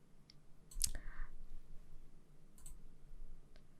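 A computer mouse clicks while someone draws a floor plan in design software. A few quiet, sharp clicks come at separate moments against a faint background.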